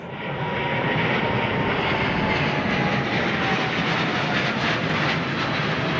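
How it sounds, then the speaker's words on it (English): A Boeing Dreamliner jet passes overhead with a steady, loud broadband engine roar that holds evenly throughout, no voices present. "Interesting that obviously that Dreamliner must be vectoring across land"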